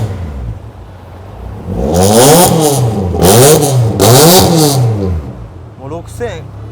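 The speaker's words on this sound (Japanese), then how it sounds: "もう6000までいいか吹かしてみる。" A Mazda Roadster engine is revved hard in repeated rising and falling bursts, loud and close, with a quieter blip near the end while someone talks over it.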